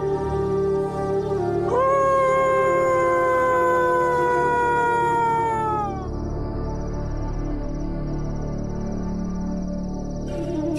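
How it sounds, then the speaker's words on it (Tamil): A dog howls at night with a long sustained cry that holds steady then drops away, followed by quieter background noise, close and prominent with no speech. "ஏன் இப்படி ஊழையிடுது?"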